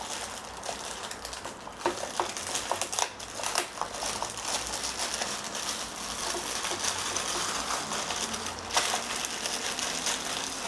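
Plastic bag packaging around a heavy-duty sewing machine is pulled open, giving a steady run of close crinkling and crackling with sharper rustles scattered throughout, nearly continuous and free of speech.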